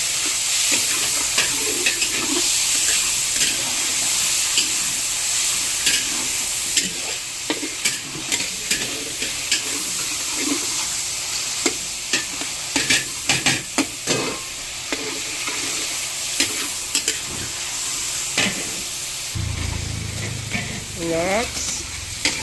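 Tomatoes sauté in hot oil in a pan, giving a steady sizzling crackle with scraping stirs that recur throughout, close and fairly loud, with a brief low thump and a faint squeak near the end.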